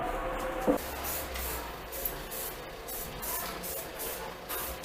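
Aerosol spray can hissing in a steady continuous stream while working on a caravan awning, with a few short bursts and shuffling handling noise throughout.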